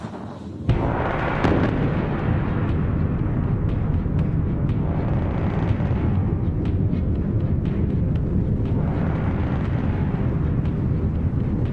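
An avalanche control gun firing shells at a snowy mountain slope to trigger a slide: a sudden sharp blast followed by a long, heavy roaring rumble that rolls on and swells again.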